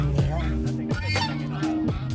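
A flock of geese honking near a historic site in Taxila, several loud nasal calls in quick succession with gaps between them, no talking.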